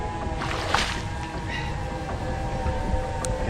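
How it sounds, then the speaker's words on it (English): A train rumbling past near the banks of a large river, a steady low roar with clanking under constant wind-like noise, fairly close and continuous throughout. "Oh, train's coming."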